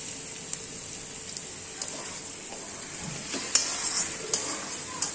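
Vegetables fry in a pan with soy sauce and tomato sauce for a veg chow, giving a steady, moderate sizzle with a few sharp crackles and faint scraping stirs, and no talk.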